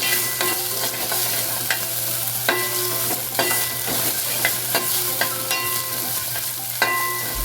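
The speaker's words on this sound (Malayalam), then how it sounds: "ഈ ഇഞ്ചിയും പച്ചമുളകും നല്ലപോലെ വറുത്ത് വരണം" Ginger and green chillies sizzle and crackle in hot oil, with a spatula repeatedly scraping and tapping the pan in an uneven rhythm over a low steady hum.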